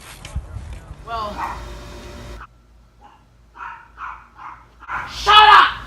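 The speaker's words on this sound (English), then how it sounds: "There was a dog barking in the background for like the whole video." Dog barking in the background outdoors during BMX riding, a few sharp barks and yips mixed in with talking, moderately loud.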